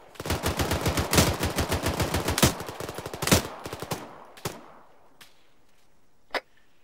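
Rapid automatic gunfire in the military shooter game Arma 3: a fast, dense string of shots that breaks into a few scattered, fading single reports followed by one last sharp crack.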